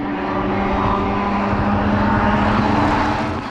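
Race cars, including a BMW and an Audi, roar past at speed on the Spa-Francorchamps track, a loud, continuous engine whine that swells and holds throughout.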